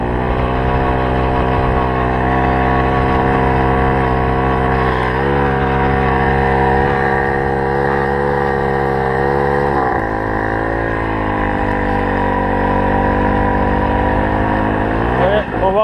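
A Tomos 50 moped engine revs hard and continuously, with a rough buzzing drone that dips and shifts in pitch as it changes into second gear, loud and close throughout.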